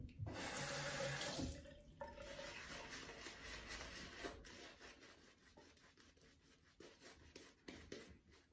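A shaving brush works shaving soap lather while small amounts of water are added. It makes close, soft wet swishing and rubbing, with a brief splash of running water at the start.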